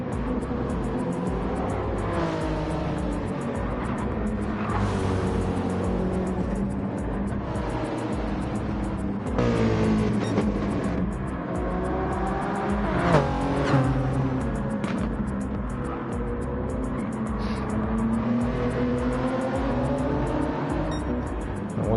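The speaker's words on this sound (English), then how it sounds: "GT does have the Ford GT does have a beautiful sound" A Ford GT race car engine in a GR3-class racing video game roars continuously for the whole stretch, rising and falling with acceleration and gear changes, loud and close with no talking.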